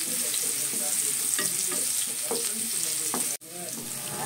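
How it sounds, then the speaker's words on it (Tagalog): Ginger sautés in hot oil in a home kitchen, giving a continuous bright sizzle with scattered crackles and a few stirring scrapes, close and fairly loud, with no talking. "Igigisa ang luya, pakatasin, tapos yung bawang, tapos yung sibuyas."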